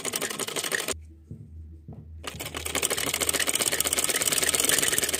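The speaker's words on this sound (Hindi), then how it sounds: "अब इसको सिलाई लगानी है पैर का बखिया पूरा" A sewing machine stitching the button placket on a men's kurta neckline runs with a fast, loud, close mechanical chatter, stops for about a second with only a low hum and faint knocks, then starts again and keeps running steadily.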